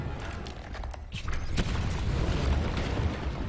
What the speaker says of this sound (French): Des explosions.